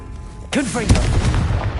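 A Confringo blasting spell cast in Hogwarts Legacy bursts out abruptly with a whooshing, fiery blast and a heavy low impact, followed by crackling rumble, loud and close.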